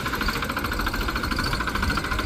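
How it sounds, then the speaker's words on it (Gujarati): A tractor engine idles steadily while the tractor is loaded, a loud, even, rumbling drone with no pauses or voices over it. "ટ્રેક્ટર ભરી રહ્યા છે ટ્રેક્ટર ભરી અને ભાઈ નાખવા જાય છે કૂવા પર"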